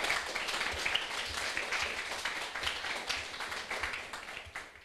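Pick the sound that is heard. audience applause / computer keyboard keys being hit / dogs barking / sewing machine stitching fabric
audience applause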